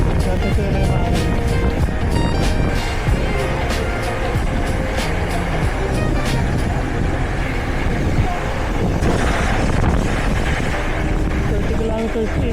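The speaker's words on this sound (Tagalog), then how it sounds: "Sobrang hangin. Grabe." Strong wind roaring across a microphone during a 112 km road bicycle race in Dubai, a constant loud rumble with someone talking over it.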